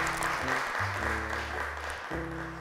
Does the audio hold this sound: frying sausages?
no